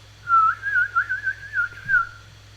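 A person whistles a wavering, sustained tune for about two seconds, with a steady low hum beneath it and no talking.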